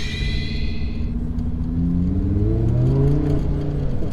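A Lamborghini engine in sport mode revs while driving, its deep rumbling note climbing and swelling steadily and loudly, with no voices over it.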